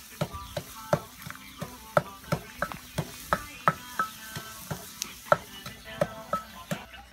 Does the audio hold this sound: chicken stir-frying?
yes